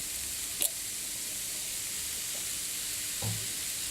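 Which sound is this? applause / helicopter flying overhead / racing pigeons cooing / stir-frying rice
stir-frying rice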